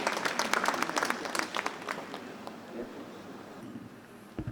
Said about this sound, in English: Please give Professor Jae Hoon a round of applause.